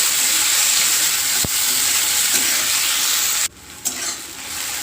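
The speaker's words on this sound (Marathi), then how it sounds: "बारीक चिरलेला टोमॅटो घालून घ्यायचा आहे आणि सगळं एकत्र करून चांगलं भाजून घ्यायचे" Onion browned in a pan with finely chopped tomato, stirred and frying with a steady loud sizzle, a brief scrape and a short dip in the noise toward the end.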